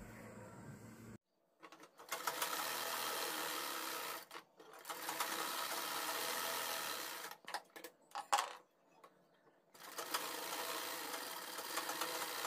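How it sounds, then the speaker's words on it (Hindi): Sewing machine stitching neck piping onto kurti fabric, running in several steady bursts of fast mechanical whirring, each a few seconds long, separated by short quiet gaps and a few brief clicks. "नेक की शेप पर आपको ऐसे सिलाई लगानी है ताकि आपका नेक कपड़े पर अटैच हो जाए"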